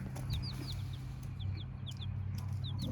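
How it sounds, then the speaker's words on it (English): Chickens on a family farm give quiet, repeated high peeping calls in short bursts, set against a steady low background rumble. "As if we didn't have enough chickens already"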